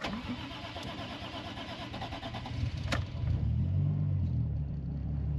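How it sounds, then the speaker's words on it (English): A car engine cold-starts with no throttle: a short cranking burst, then it catches and settles into a steady, close rumbling idle, with no talk. "we're gonna go for this first cold start"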